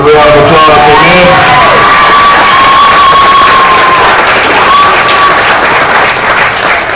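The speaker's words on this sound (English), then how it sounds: "Sister Mary, a big round of applause, amen." A packed crowd at a church Christmas play breaks into loud, sustained applause with cheers and whoops, continuous and close throughout.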